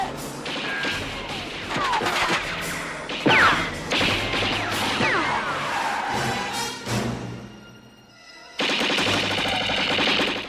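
Gunfire and crashing from a terrorist ambush in the Twin Pines Mall parking lot in the film Back to the Future: loud, dense bursts of shots and impacts run almost throughout, dip briefly near the end, then surge back.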